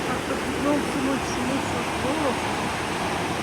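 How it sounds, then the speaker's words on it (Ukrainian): A rushing river flows beside a large stone in Yaremche, making a steady, loud broadband roar that fills the whole stretch, with faint voices barely audible beneath it. "уснула під шум річки"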